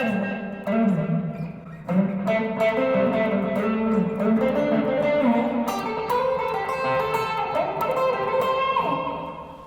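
Lead guitar soloing over a few notes up and down the fretboard, with hammer-ons, pull-offs and legato slides; the lines are fluid, sustained and close, with no talking.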